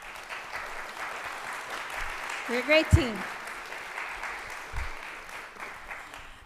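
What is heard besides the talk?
audience clapping in lecture hall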